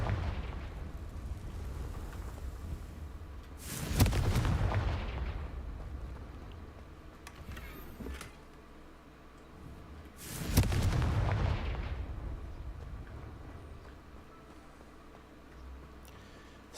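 Two deep booming blasts of the Confringo fire spell in Hogwarts Legacy, several seconds apart, each with a rumbling tail that fades slowly over a steady low game ambience.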